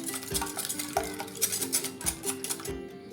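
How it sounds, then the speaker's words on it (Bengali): A hand beater whisks eggs and sugar in a bowl for a mango pudding, giving a quick, rhythmic series of clinks and scrapes against the bowl, close and moderately loud. "সব উপকরণ আমি একটা এভাবে হ্যান্ড বিটার দিয়ে বিট করে নেব"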